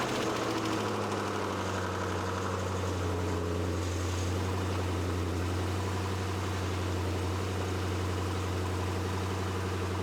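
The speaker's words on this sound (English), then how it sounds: "I'm pretty sure it's a modified exhaust that's on it, but it runs perfectly fine and idles completely fine." A 2017 Dodge Challenger Scat Pack with a modified exhaust idles steadily and loudly close by, its deep, even rumble holding for the whole stretch with no voices.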